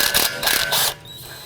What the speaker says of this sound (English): We're going to use our 14mm socket to loosen and remove this bolt.